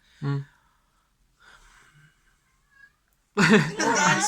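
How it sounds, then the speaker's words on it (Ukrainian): A cat gives a short meow, followed by faint scattered sounds and quiet gaps, then people start talking near the end. "А там котик там був зараз"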